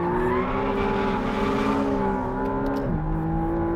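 Engine of a McLaren hybrid steadily accelerating out of a low-speed corner, a loud sustained rising drone with a brief dip as it shifts, then climbing again, no talking.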